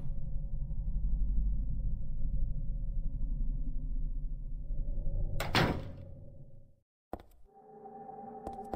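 In the Silent Hill 3 video game, a moonstone is set into a door, which unlocks with a sharp, close mechanical clunk and a second, shorter knock after a steady low ambient drone fades out.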